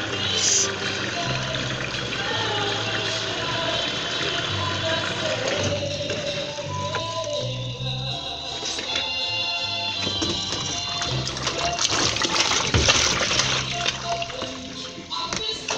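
A 12-kilo washing machine fills with water in a steady, continuous rush and trickle, with bursts of louder splashing near the end, while other household sounds and brief movement noises sit alongside.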